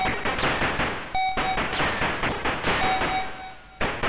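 Rapid mechanical bursts of enemy machine-gun fire in the Atari ST game Operation Wolf, repeated in short pulses alongside sharp electronic beeps and thuds from the game.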